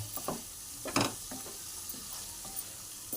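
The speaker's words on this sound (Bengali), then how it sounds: "এইভাবে ভালো করে আলুর সঙ্গে কষিয়ে নেব" Fried potatoes tossed in a pan of pumpkin and spice for a prawn curry, soft sizzling under a few quiet scrapes and stirs, with the loudest stroke near the middle, faint and close.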